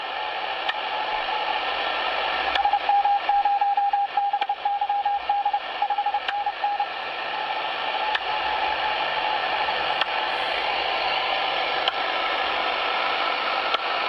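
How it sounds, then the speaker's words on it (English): Fast Morse code calling CQ on shortwave through a Sony ICF-SW7600 receiver, a faint beeping tone for a few seconds under steady loud hiss and static that fills the whole stretch. "Someone calling CQ, I can hear that much."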